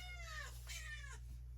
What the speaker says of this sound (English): oh, that's the cat.